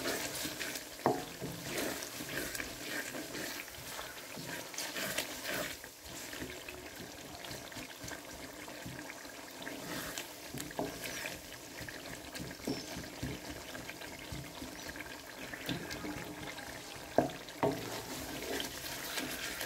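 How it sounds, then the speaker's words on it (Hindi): Spices roasting in a pan for khatay aloo, with a soft, continuous sizzle and the intermittent scrape and clink of stirring, moderately faint and without speech. "अब हम इन सारे स्पाइसिस को डाल के अच्छी तरह भून लेंगे इसको"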